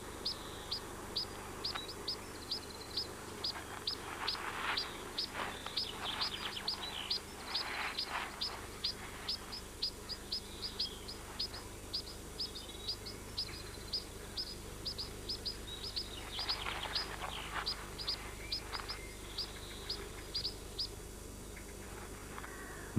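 Pied flycatcher calls near a nest box during incubation, a run of short, high, faint chirps repeating steadily over soft outdoor background noise, with no voices.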